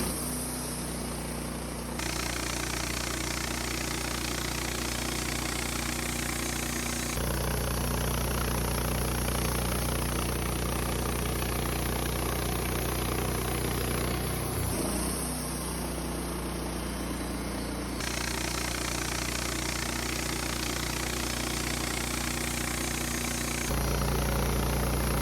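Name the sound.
Woodmizer LT15 sawmill milling a large incense cedar log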